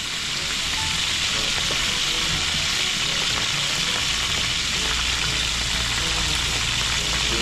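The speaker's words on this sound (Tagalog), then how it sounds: "Tapos dito na rin natin gigisahin yung bawang sibuyas." Garlic and onion sauté in a hot pan for lomi Batangas, giving a steady, loud, close sizzle that holds without a break, with faint stirring scrapes underneath and no talk.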